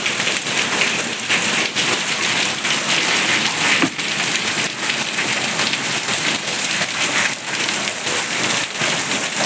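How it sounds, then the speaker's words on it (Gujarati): A loud, steady downpour of heavy rain splatters hard on nearby surfaces, an unbroken roaring hiss from start to finish. "ફૂલ વરસાદ છે અત્યારે"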